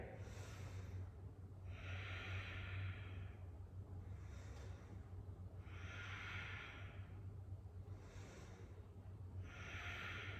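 Slow, steady yoga breaths during a vinyasa flow pose: three long airy inhale-exhale cycles of even rhythm, close and soft over a low constant hum, with no talking.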